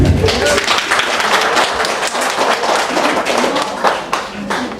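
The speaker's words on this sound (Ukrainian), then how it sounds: "Оплески" Loud, close applause fills a reunion gathering of former classmates meeting after forty years, many hands clapping in a dense, continuous burst with a few sharper claps standing out near the end.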